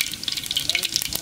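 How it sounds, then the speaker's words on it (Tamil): Mustard seeds dropped into hot groundnut oil crackle and sizzle up close, a dense run of sharp pops and spits over a steady frying hiss for about a second. "எண்ணெய் காஞ்சிட்டு கடுகு போட்டுக்கலாம்."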